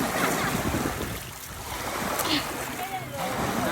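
Lake waves wash and lap continuously at Horne Lake, a soft, steady surf with occasional small splashes and faint voices in the background.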